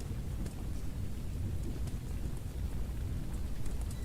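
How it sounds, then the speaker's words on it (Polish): Steady video-game rain hisses and patters with a low rumbling wash underneath, continuous and fairly quiet, with no voices. "deszcz pada"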